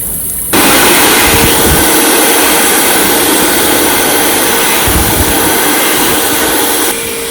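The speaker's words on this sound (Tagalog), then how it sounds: "meron ding hand dryer" An electric hand dryer in a public restroom in Finland starts abruptly and blows with a loud, steady roar close by, then cuts off near the end.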